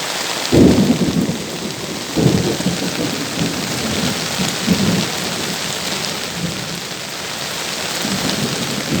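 Steady heavy rain pours down over a village while deep thunder rumbles and cracks several times, close and loud, during a lightning storm.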